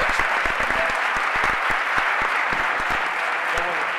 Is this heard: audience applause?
yes